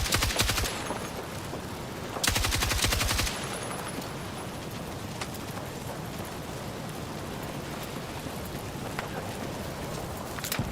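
Two short bursts of rapid automatic gunfire crack out from a gun in the Battlefield 6 video game. They ring over a steady, rain-like hiss of battle ambience, which carries on alone afterward.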